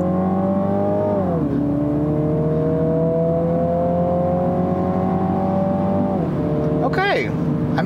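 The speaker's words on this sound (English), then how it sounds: "let's try another acceleration run with the automatic" A 2018 Mini Cooper Clubman JCW with automatic transmission makes a launch-control acceleration run, its engine roaring loudly from inside the car, rising in pitch through the gears with quick shift dips and a final shift near the end.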